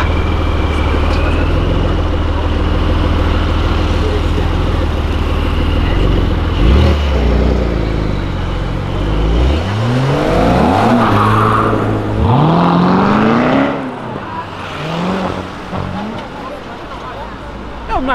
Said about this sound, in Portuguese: O filho da velha da Porsche saiu de lado com a Porsche.